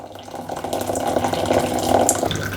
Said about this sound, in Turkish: Son damlasına kadar süzüyorum.